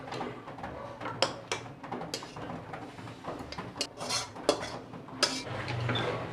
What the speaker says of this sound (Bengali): এবার এটা প্রেসার কুকারে ঢেলে নিচ্ছি।